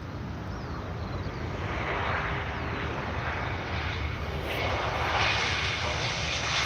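A British Airways airliner's engines roar steadily at Manchester Airport, a broad, continuous rumble that swells slightly toward the end, heard from a moderate distance outdoors with no talking.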